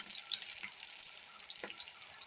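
Ash gourd leaf fritters fry in hot oil over a lowered gas flame, giving a steady, quiet hiss and crackle with no talk.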